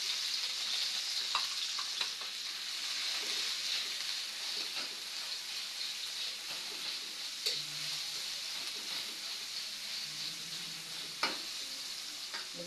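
Tomatoes sautéing in a pan for ginisang labong, a steady soft sizzle with occasional stirring clicks and scrapes, moderately close and without talk.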